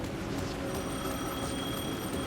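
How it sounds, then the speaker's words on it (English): Ringing telephone at Parliament Tower in Alan Wake 2, a repeating electronic bell with regular bursts over a low, murky ambient backdrop. "The phone was ringing again."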